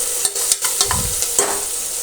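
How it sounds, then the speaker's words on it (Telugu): Ginger garlic paste with onions fries in a pan, a soft sizzle broken by a few sharp spoon scrapes and stirring taps close by. "1 spoon ginger garlic paste add చేసుకొని పచ్చి స్మెల్ పోయేంత వరకు బాగా ఫ్రై చేసుకోవాలి"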